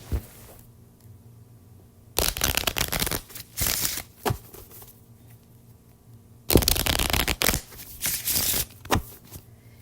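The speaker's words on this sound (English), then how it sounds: "I am shuffling the cards that I used earlier" Two bursts of cards being shuffled, each a quick riffle followed by a bridge flutter, separated by quiet pauses; close and crisp.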